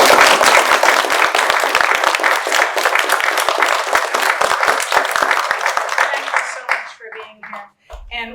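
An audience at a literary magazine release party and reading claps for the editors, a loud sustained round of applause that tapers off after several seconds, followed by scattered sounds and a few voices.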